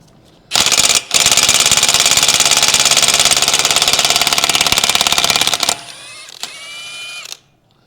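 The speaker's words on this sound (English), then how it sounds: "the axle nut's 32 millimeter. We'll see if this battery impact will do it." A cordless battery impact wrench hammers loose a 32 mm rear axle nut on a 2011-2016 Mini Cooper Countryman R60. The loud, rapid rattling runs about five seconds after a brief first burst, then drops to a lighter free-spinning whir.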